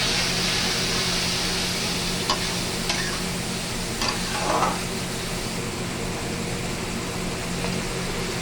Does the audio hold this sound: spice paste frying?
yes